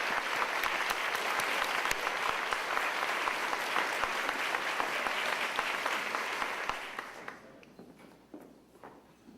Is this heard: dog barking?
no